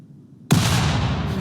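A sudden, loud gunshot burst from the video game RimWorld cuts in after a quiet moment and rings out into a dense, noisy tail.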